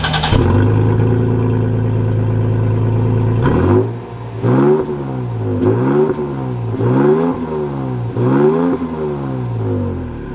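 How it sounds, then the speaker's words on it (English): A 2021 Toyota Tacoma Limited Nightshade pickup truck sets off: the engine hums steadily, then accelerates through several gears, its revs climbing and dropping in a repeating pattern as it shifts. "let's take this Tacoma Limited out and see how it drives"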